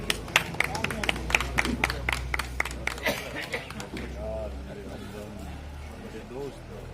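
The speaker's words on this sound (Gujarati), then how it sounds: "બધે તાળીઓ પાડશું આપણે." Crowd of people clapping at a police station farewell ceremony, a burst of sharp hand claps over the first three seconds under a man's speech, then fading into murmuring voices.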